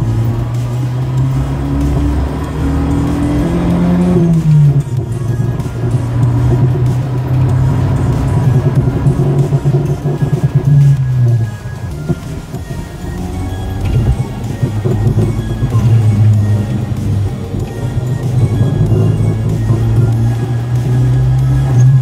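Turbocharged engine swapped into a Volvo 240 on a test drive, a loud continuous drone heard from inside the car that rises and falls with throttle and gear changes, with no talking.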